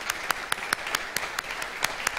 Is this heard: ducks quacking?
no